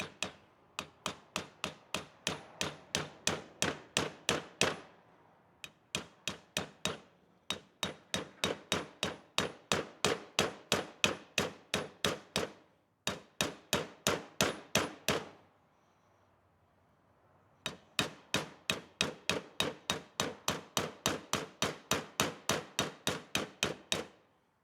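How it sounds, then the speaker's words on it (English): A hammer taps a trailer wheel bearing seal into its hub in rapid, steady bursts of sharp metallic strikes, close and loud, grouped into several runs separated by brief pauses. "That's my hammer hitting the seal and the hub at the same time, which means it's flush."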